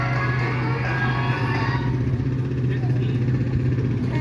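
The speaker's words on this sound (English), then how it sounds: "This is 1100 motor. Stuffed in a dirt bike frame." An 1100 motor stuffed into a dirt bike frame runs at a motorcycle hill climb, holding a loud, steady engine drone throughout. Voices talk over it.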